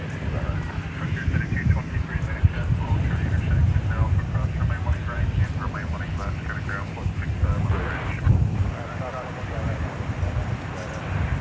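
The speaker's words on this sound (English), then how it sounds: "this UPS MD-11 is going to taxi up the central taxiway" A UPS MD-11 cargo jet taxis along an airport's central taxiway, a low, steady engine rumble heard from a distance through gusting wind buffeting the microphone, with a person talking over it.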